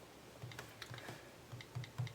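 Taps on an iPad mini or iPod Touch 5th Gen on-screen keyboard, a quick irregular run of light clicks and ticks, close and quiet, with no talking.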